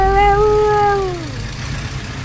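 A single cat gives one long, clear, drawn-out meow that slides downward and fades, heard close and loud over a low background hum.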